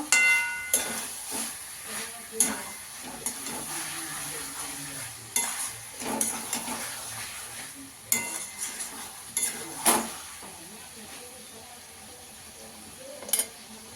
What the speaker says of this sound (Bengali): চিকেনটার মধ্যে দিয়ে দেবো পেঁয়াজটা আর ক্যাপসিকামটা। ভালো করে মিশিয়ে নেব।